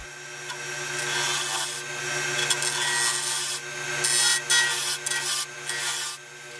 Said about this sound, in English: Create bowl gouge again to start shaping the actual top.